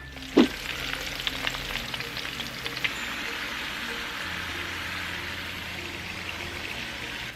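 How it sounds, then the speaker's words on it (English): Food sizzles steadily in a hot pan, a continuous crackling fry with a sharp clink near the start. "we're gonna be frying them today"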